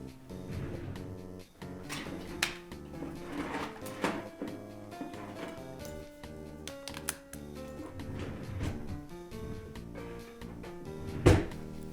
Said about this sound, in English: The drawers on my desk are like really loud